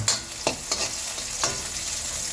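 Onion and garlic sautéing together in hot cooking oil for a pork menudo, a close, loud sizzle broken by a few quick scraping stirs of a utensil against the pan, no voices.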